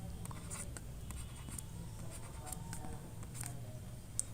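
A pen or marker scratches steadily across a writing surface while a fructose chemical structure is drawn, a continuous close scraping texture with small sharp strokes scattered throughout and no talking.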